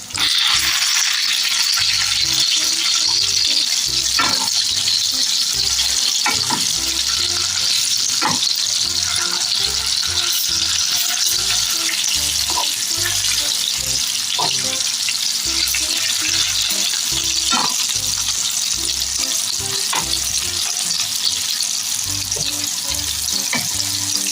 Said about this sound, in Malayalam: അപ്പോൾ മീൻ ഒരു സൈഡ് ആയിട്ടുണ്ടെങ്കിൽ നമുക്ക് തിരിച്ചിട്ട് കൊടുക്കാം.